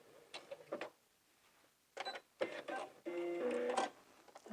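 A sewing machine runs overcast reinforcement stitches on heavyweight denim in short bursts of rapid mechanical chattering, separated by pauses, close and fairly clear.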